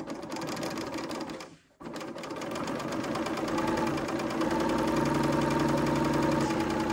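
A serger runs an overlock stitch along flowing fabric, its fast rhythmic chatter close and loud, cut by one brief pause before it resumes and carries on steadily to the end.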